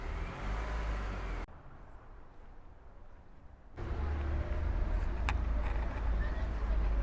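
Cars passing through a small town centre, a loud broadband traffic rush that fades into a quieter gap midway and then swells again as more vehicles roll by close at hand.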